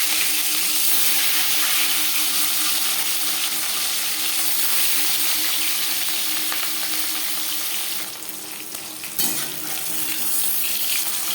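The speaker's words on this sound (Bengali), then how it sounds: "3 চামচ রিফাইন্ড অয়েল গরম করে নিয়েছি। এবার দিয়ে দেব ম্যারিনেট করে রাখা মাছ।" Marinated katla fish fries in hot refined oil, a loud, steady, dense crackling sizzle that fills the whole stretch, with a brief shift midway as the pieces are moved.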